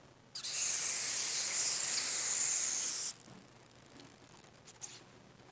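Small piece of dry ice pressed against hot pliers, giving a loud, close, steady hiss for about three seconds, then a quiet stretch with a few faint clicks.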